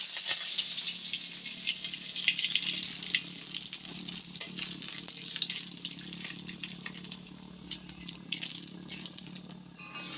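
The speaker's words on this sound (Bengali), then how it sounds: "আমি কারি পাতাটাকে ভেজে নেব।" Curry leaves frying in hot oil for jhuri aloo bhaja, a loud, continuous hiss and crackle with scattered sharp pops that ease and flare again toward the end.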